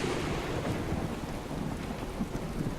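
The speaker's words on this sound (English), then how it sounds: "Thunderstorm begins to let up." Rain and a thunderstorm in Skyrim roll on as a dense, loud, continuous wash of rainfall with low rumbling, with no voices over it.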